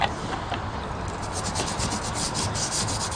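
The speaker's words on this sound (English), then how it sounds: "Now I give it a sand with a bit of old sandpaper while it's still got glue around it" A rustic wooden picture frame, still smeared with glue, is sanded by hand with worn sandpaper, giving a steady, close, continuous rubbing rasp with short strokes running together.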